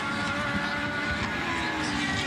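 A 2010 IndyCar racing down the front stretch toward turn one during qualifying at Edmonton, on a street circuit laid out on airport runways: a continuous, loud engine roar with no break over the short stretch.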